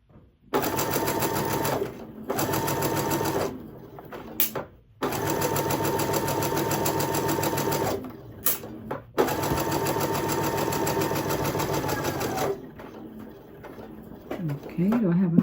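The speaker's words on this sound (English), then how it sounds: "I'm sewing on a baby lock chorus." A Baby Lock Chorus sewing machine runs close by, stitching fabric in several long, steady bursts separated by brief pauses.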